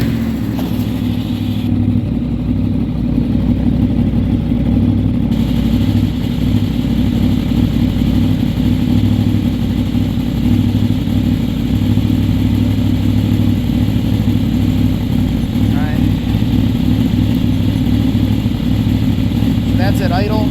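Honda VFR800 motorcycle engine idling steadily after a stator repair, a loud, even low rumble running throughout with a voice speaking over it.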